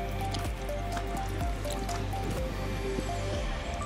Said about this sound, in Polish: Zobacz, czy działa woda.